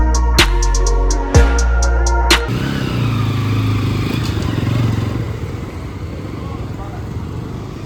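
A Bajaj Pulsar NS200 motorcycle fitted with a KTM Duke handlebar, heard on a test ride: a few sharp engine revs up close at the start, then a steady rushing ride noise with engine drone and wind.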